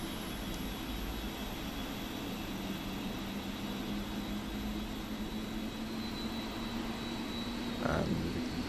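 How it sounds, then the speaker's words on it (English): Boeing 747-400 jet engines spool up in a flight simulator, a steady broadband roar with a faint rising whine held throughout and a brief extra burst near the end, fairly quiet and heard alone. "And you can see them start up here. Just checking, like, most of them are a bit equal. Okay, engine's fully powering on now."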